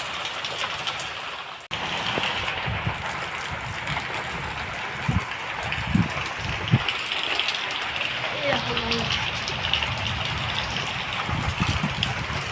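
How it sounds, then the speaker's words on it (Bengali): Heavy rain pours in a continuous broad wash of drops hitting surfaces, with a few sharper knocks and a faint voice briefly heard under the downpour. "বৃষ্টিটা খালি একবার দেখো।"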